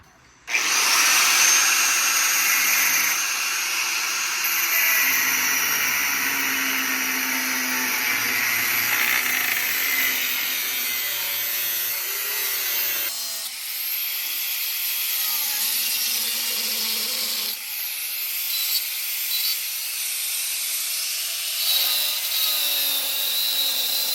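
A grinder fitted with a double-sided cutting disc slices through metal while installing a UPR coil-over conversion kit, a loud continuous high-pitched whine and screech that shifts in pitch as the disc bites, with no talking.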